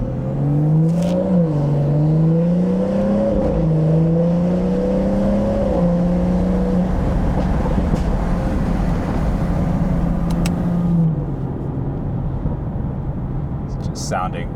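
A car with a BMW B58 engine and loud exhaust drones steadily from inside the cabin, its tone rising and falling slightly with throttle before fading into a rumbling cruise, with people talking over it.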